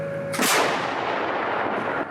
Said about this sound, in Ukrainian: Навівся, оповістив всіх, що буде постріл, і робиш постріл